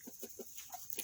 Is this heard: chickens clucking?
yes